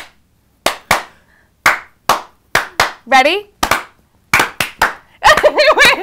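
A school rhythmic clap pattern done live, sharp isolated handclaps in short groups separated by gaps, close and loud, with brief speech and laughter interspersed between the claps.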